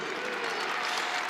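A crowd applauds at a Minnesota Gophers college wrestling match, a dense, steady wash of clapping filling the arena without break.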